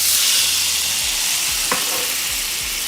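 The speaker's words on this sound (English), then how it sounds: "what I'm going to be doing now is just cooking this mixture down to what we like to refer to as au sec" Brandy sauce for steak au poivre sizzles steadily in a pan as it reduces, a constant close frying hiss with a few soft stirring scrapes and one brief sharp tap partway through.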